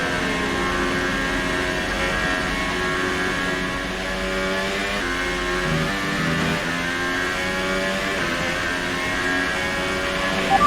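A Formula 1 race car engine in the F1 2018 video game screams at high revs through a qualifying lap in Spain, with continuous loud whining tones that rise and fall through gear changes and dip briefly mid-lap.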